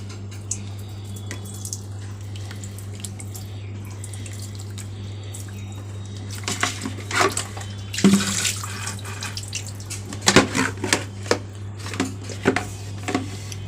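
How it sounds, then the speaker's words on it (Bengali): Tap water runs steadily while a bucket is washed, with irregular splashing, sloshing and clunks growing busier toward the end over a constant low hum. "একটু ধুয়ে নিই বালতিটা সুন্দর করে"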